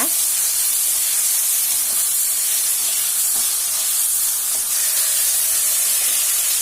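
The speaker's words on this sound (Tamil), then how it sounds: "இஞ்சி பூண்டு பச்சை மிளகாலாம் அரைச்சி வச்சுருக்கத சேர்த்துக்கலாம் சேர்த்து நல்லா வதக்கி விட்ருங்க" Ginger, garlic and green chilli paste sizzles steadily in a hot pan as it is sautéed, a loud continuous hiss heard up close with faint stirring scrapes.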